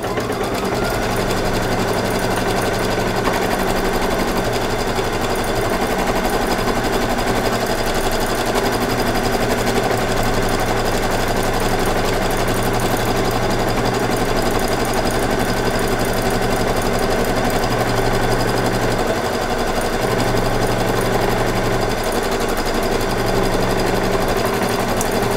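An embroidery sewing machine stitching a placement line for an in-the-hoop Christmas tree ornament, a loud continuous rapid mechanical whir with no pauses throughout.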